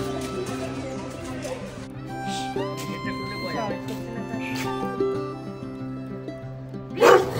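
Two dogs bark and yip intermittently at a temple next to a palace in Bolpur, Santiniketan, among steady background sounds, with a louder burst near the end and people talking.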